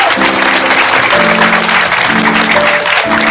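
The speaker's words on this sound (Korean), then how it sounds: "사모님, 박수 한번 해주십시오." Congregation at a Baptist church Sunday service applauds loudly and continuously, with sustained musical tones playing underneath throughout.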